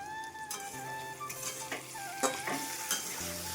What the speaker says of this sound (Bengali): এই যে আমি একটু আলু লেড়ে দিচ্ছি